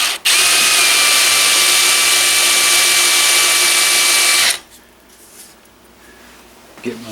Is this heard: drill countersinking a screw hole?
yes